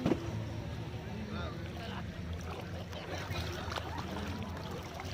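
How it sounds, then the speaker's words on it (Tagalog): Boat ride on the water at Kaybiang Calayo beach, with a steady broadband wash of engine and water noise running throughout, wind mixed in, and voices talking over it. "Sakay kami sa yate, guys."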